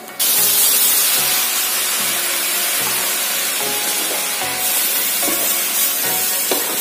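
Crushed oncom being stirred with a little water in a pan, giving a steady close hiss and wet sizzle with soft scraping knocks from the spoon, continuous throughout with no talk.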